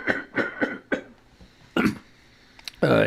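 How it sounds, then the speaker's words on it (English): A man coughing repeatedly on a live radio stream, a quick run of four harsh coughs, then a louder cough and a throat sound. "There you go, coughing again."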